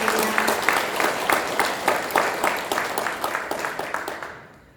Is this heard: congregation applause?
yes